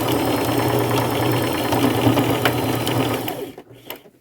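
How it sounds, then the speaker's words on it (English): Sewing machine running steadily as it topstitches across the top of a handmade bag of upcycled materials, loud and close with a continuous mechanical whir and rapid needle knocking, stopping near the end. "Now I can stitch across there if I'm afraid my top stitching might come out"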